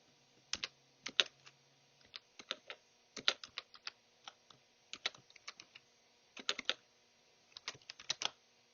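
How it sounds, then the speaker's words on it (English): Fingers type an SQL query on a computer keyboard in quick bursts of crisp, close key clicks separated by short pauses, with no talking. "You can type directly the query and put a semicolon"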